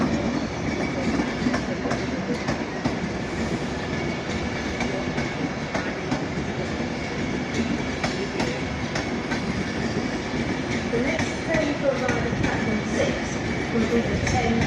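A Pendolino train rolls into a platform at Crewe station with a steady rumble and rhythmic wheel clatter, while a station announcement and people talking carry over it.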